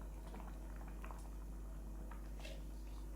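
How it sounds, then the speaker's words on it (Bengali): Khichuri of rice and lentils boiling in a pot, soft irregular bubbling and popping, faint and close over a steady low hum. "এইভাবে টকবক করে কিন্তু ফুটতে দিতে হবে"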